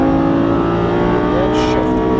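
Sports car accelerating at full throttle on a race track at Exotics Racing Las Vegas, a steady loud engine drone with a brief tire-squeal-like hiss near the end, while an instructor's voice is faintly present.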